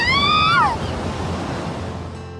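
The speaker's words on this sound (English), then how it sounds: "Suddenly, a huge gust of wind blew into the cave" A huge gust of wind roars steadily into a cave in a visual novel game, a broad rushing wash that opens with a brief rising-and-falling tone and then holds at a loud, even level.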